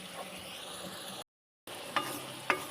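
Spices added to prawns frying in a pan, a steady quiet sizzle with a couple of sharp scraping stirs near the end after a brief gap.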